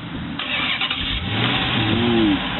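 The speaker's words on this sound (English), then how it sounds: "Let's check out the remote start. Two touches of the buttons." A 2008 Dodge Charger cranks and fires up by remote start outdoors, a brief starter whir followed by the engine catching and rising into a low, steady rumble.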